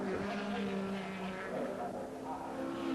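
Race cars led by a white Porsche 917 roar away together at the start of the 1970 BOAC 1000 race, a dense continuous engine drone from a nearby pack with some tyre noise.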